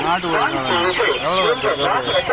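Several native chickens cluck and squawk close by in overlapping bursts at a weekly market, with a busy, crowded background.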